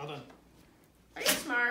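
A trained dog sneezes once on cue during collar training indoors, a sharp, close burst after a pause, with a person talking before and after it.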